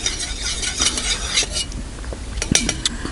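Titanium cookware clinks and scrapes in quick, uneven bursts, light utensil taps against thin titanium pots close by.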